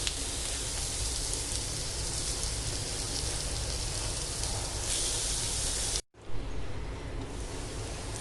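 Vegetable besan cutlets frying in a pan, making a loud, steady, close sizzle like heavy rain that runs unbroken except for a brief cut partway through.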